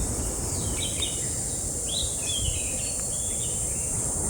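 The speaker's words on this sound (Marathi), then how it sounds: "हा पक्ष्यांचा किलबिलाट" Birds chirp faintly in a coconut and areca palm garden crossed by a red earth path, with a few scattered high calls over a quiet, hissing outdoor background.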